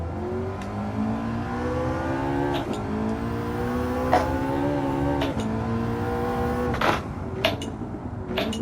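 McLaren 650S engine in Gran Turismo 7 revving hard under throttle, a steady climbing tone that repeatedly shifts up and rises again, with brief clicks and tire noise between gears.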